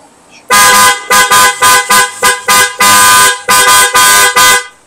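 A loud aftermarket PIAA horn on a Honda ADV160 motorcycle honks repeatedly up close, a long blast followed by a dozen short rhythmic toots, harsh and brassy.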